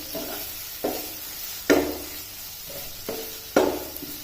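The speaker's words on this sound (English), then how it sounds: "Now let these onions get brown. Keep mixing them in regular intervals." Onions browning with ginger garlic paste in a pan for an egg roast masala, a steady soft sizzle broken by regular stirring scrapes about every second, close and without talk.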